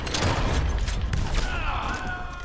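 Gunfire crackles through a shootout in the Red Dead Online town of Valentine, a busy fusillade of shots and booms layered over dense noise with a faint whine near the end.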